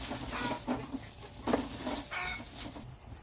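Chickens cluck in short bursts at close range, a few birds overlapping with scratchy background noise.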